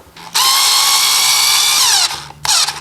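Power drill driving screws into an electrical outlet box during a single-to-double outlet upgrade in a mobile home: a brief soft rev, then a loud steady whine for nearly two seconds that slows as the screw seats, followed by a second short burst.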